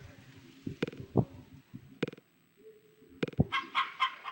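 Chickens clucking inside a hen house in the Harvest Moon farming game: sparse, short clucks and squawks separated by quiet gaps, then a quick cluster of calls near the end, clear and close.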